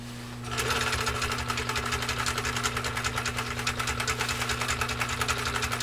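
A Husqvarna Viking 21A sewing machine zigzag-stitches through six layers of U.S. Army grade canvas, starting after a brief pause and then running at a steady, fast, rhythmic clatter close to the mic, with no talking.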